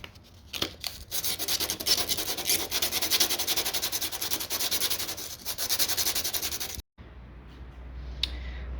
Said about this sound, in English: First, we're gonna sand it with 180.